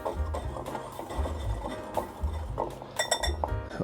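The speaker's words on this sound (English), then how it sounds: "we'll mix this up very well" Zucchini muffin batter of flour, salt and nutmeg being stirred in a bowl: repeated clinks and scrapes of a utensil against the bowl in a steady rhythm, close, with no talk.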